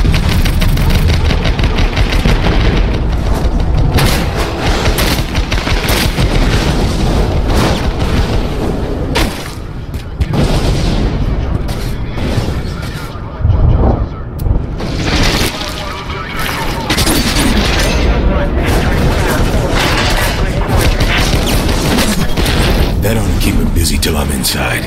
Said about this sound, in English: More infected don't have a chance against those gun turrets.